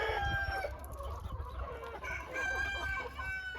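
Chickens cluck and call close by in a barn, with overlapping squawks and a crowing rooster standing out over a steady farmyard murmur.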